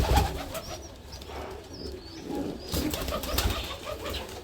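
Jalali pigeons in a loft where birds sit on eggs and chicks have hatched, giving soft, low, repeated cooing and occasional chirps against steady background noise, with no talking.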